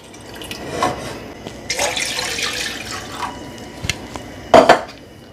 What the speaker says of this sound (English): I'm going to add about 4 cups of water.